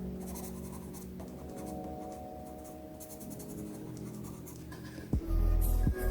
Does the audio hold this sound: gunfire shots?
no